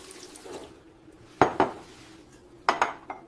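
Dishes and cutlery clink sharply in two quick clusters of bright metallic and ceramic knocks during kitchen cleaning, with quiet handling sounds between.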